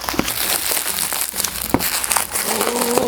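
The nicely wrapped paper packaging of a Pullip Optical Queen doll crinkles and rustles continuously at close range, with irregular crackles and no talking.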